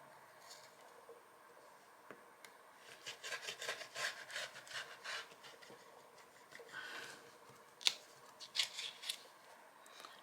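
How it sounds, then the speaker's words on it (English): A rotary cutter slices paper or card for a baby boy's mini album, making soft, close rolling and scraping strokes in a loose rhythm over quiet room noise, with no talking. "I just need to cut this off, and I'm going to use my rotary cutter"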